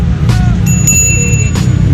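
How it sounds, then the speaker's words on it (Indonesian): A bicycle bell added to an Element Pikes bike rings in a few sharp, bright dings with a lingering metallic tone, close up over a steady low background hum. "Kemudian ini saya tambahin bel"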